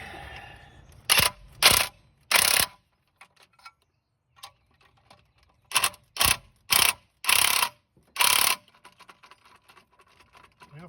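A socket ratchet turning a car engine over by hand gives crisp, close ratcheting bursts: three quick runs, a pause with faint ticks, then five more bursts in a row, no voices.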